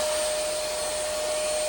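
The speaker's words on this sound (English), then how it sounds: "That's the Maircle portable vacuum." A Maircle S5 Mate cordless stick vacuum runs with a steady, loud rushing whoosh and a constant thin whine, uninterrupted and close by.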